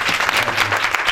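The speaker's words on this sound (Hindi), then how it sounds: "जोर से जोर से खुदा के लिए क्लैपिंग करेंगे।" A church congregation claps loudly and steadily at a prayer meeting, a dense, continuous wash of hands close by with no voices over it.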